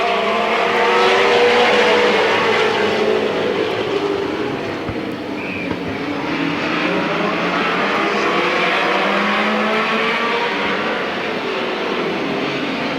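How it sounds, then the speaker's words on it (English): A field of race cars roars under green at a 1995 fall speedway race, the engines as a loud, dense, sustained drone that swells and fades slightly as the pack passes, with no voices over it. "They got the engines running harder."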